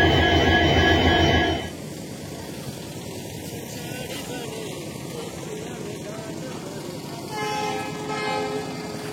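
At Dibrugarh station before the Dibrugarh–Rajendra Nagar Weekly Express departs, a loud train horn blares for about a second and a half, then a low, steady rail rumble continues with a faint tone rising again near the end.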